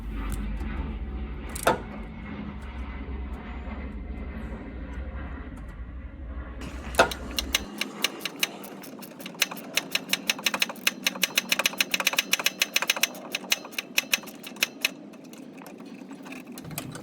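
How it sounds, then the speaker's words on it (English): A small socket wrench tightens a bolt on a Troy-Bilt mower tractor, giving rapid runs of sharp ratcheting clicks close by. A low hum sits underneath early on, and a couple of isolated knocks come first. "Then I can use that small socket wrench again to tighten it all the way."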